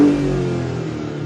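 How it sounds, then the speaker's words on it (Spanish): A Maserati Grecale Trofeo SUV's engine revs hard, then the note falls away in a steady, loud decaying drone with no clear separate pops, close up. "Tiene un petardeo increíble."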